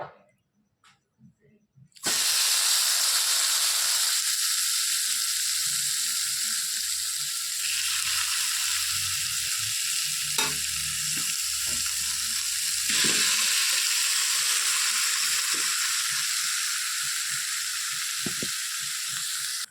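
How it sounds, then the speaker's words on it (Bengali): Prepared fish goes into a hot wok and sets off a sustained sizzling hiss after a brief quiet start, with occasional utensil clicks and faint background sounds underneath. "কড়াইটা গরম হয়ে গেছে এবার দিয়ে দেবো রেডি করে রাখা মাছটা"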